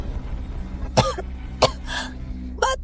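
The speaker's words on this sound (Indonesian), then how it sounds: "Batuk!" Three or four sharp, separate coughs sound up close, spaced across a few seconds over a low background hum, with no speech.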